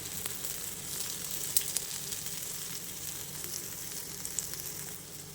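Coriander vadi shallow-fries in a little oil in a pan, giving a continuous, even sizzle with faint pops throughout and no talking.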